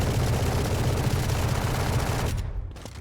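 Vandal rifle fire in a Valorant match, a loud, dense burst of rapid gunfire lasting over two seconds before cutting off into a softer tail.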